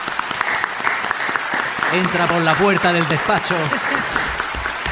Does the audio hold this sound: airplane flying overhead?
no